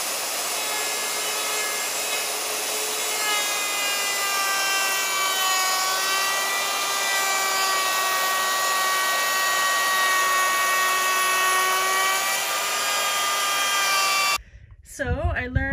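An electric router cutting into an eight-foot wooden board, a loud steady high whine that holds for many seconds with slight shifts in pitch, then stops abruptly near the end.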